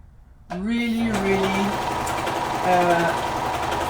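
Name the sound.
serger sewing satin with cording foot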